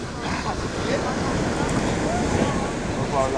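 Ocean waves at Cas Abao Beach on Curacao, a continuous dense wash of surf mixed with strong wind buffeting the microphone, loud and steady throughout without distinct breaks.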